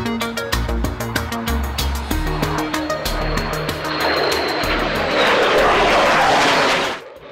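Twin F-22 jet engines run at full throttle with afterburner, a throbbing low roar building into a loud, broad, sustained blast that cuts off abruptly near the end.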